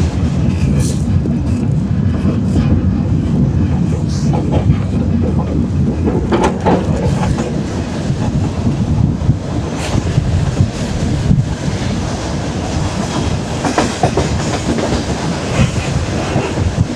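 Freight train rolling on rails during trainhopping in Karelia, a loud continuous rumble with clanks and squeals, heavy wind buffeting the microphone throughout.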